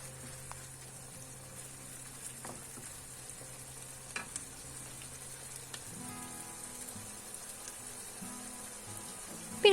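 Minced meat frying in its own fat and juices with no added oil, giving a steady close sizzle and crackle with occasional stirring scrapes in the pan.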